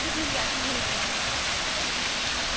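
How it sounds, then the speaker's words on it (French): A tall waterfall at a Vietnamese water park resort plunges from a height, producing a steady, dense roar of rushing, splashing water that fills the whole stretch without a break. "Elle est grande la cascade quand même, elle tombe de haut."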